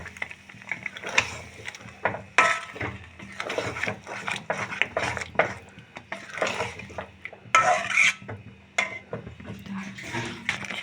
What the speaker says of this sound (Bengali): দইটা দিয়ে খুব ভালো করে আমি একটু কষিয়ে নেব।